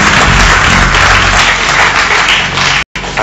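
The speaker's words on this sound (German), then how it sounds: "Hast du geklatscht gerade?" Applause on a quiz show, dense continuous clapping from a crowd, loud and close, cut off briefly near the end.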